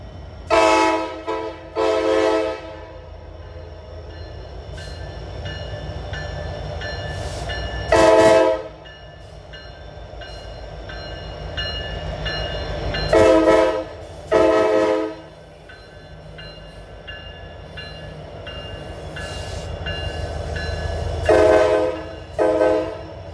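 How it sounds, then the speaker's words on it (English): Freight train locomotives at Horseshoe Curve near Altoona, Pennsylvania, rumble steadily while several loud multi-tone horn blasts sound in short bursts, heard from trackside. "what's also really neat about railfanning at the curve is seeing a set of engines"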